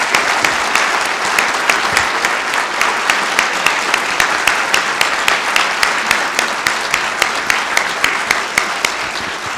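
Audience applause at the close of a space-themed guest lecture, a dense, steady wash of many hands clapping at close range that fills the whole stretch at high loudness.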